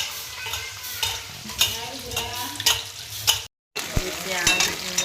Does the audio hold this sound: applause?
no